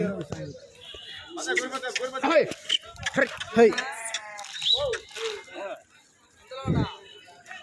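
Sheep bleat in short bursts amid a busy outdoor livestock market in Kadiri, with people talking nearby throughout.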